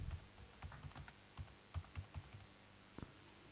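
Soft, close typing on a computer keyboard, a short run of irregular key clicks with brief pauses, quiet and alone.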